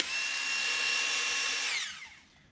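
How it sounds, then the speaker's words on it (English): A cordless drill pressed into service as a makeshift jackhammer to chip out tile gives off a loud, steady whine for close to two seconds before spinning down and fading out, with no voices. "basically I used it as kind of like a jackhammer, so to speak"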